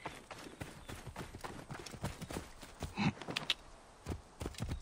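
A horse's hooves clip-clop at a steady walking rhythm in Assassin's Creed Origins, close and fairly quiet, with a brief rustle partway through.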